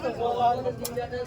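A female pigeon for sale at Golabari market gives a soft, brief coo up close, heard among voices and market background.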